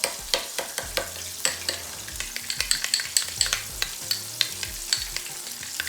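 Homemade habanero salsa for a spicy fried chicken sandwich gets stirred in a bowl, with a spoon scraping in quick, rhythmic strokes, close and fairly loud, and nobody speaking.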